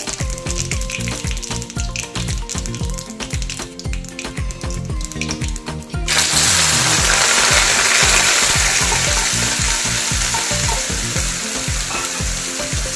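Onions sizzle loudly in hot oil, a constant crackling hiss that grows louder and brighter halfway through as more onion hits the pan.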